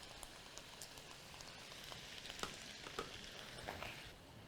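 Vegetables stir frying in a pan after seasoning with salt and black pepper, a soft steady sizzle with scattered crackles and occasional louder pops, faint and continuous without speech.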